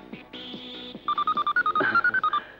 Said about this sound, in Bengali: এই ফোন এসেছে, ফোন এসেছে।